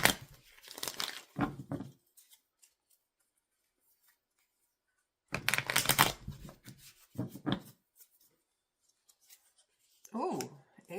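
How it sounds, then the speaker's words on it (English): Cards are riffled and shuffled in a few short, crisp bursts separated by silence, close by, with a soft voice briefly at the end. "Keep shuffling, keep shuffling."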